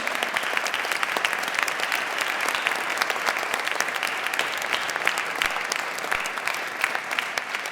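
Sustained applause from a large concert audience, dense steady clapping that holds at an even level throughout.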